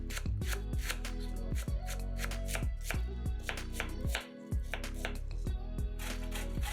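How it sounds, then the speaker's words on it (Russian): Half a head of cabbage finely shredded with a knife on a cutting board, rapid, even, close chopping taps in a steady rhythm with a brief pause, no talking. "Капусту мелко шинкуем ножом."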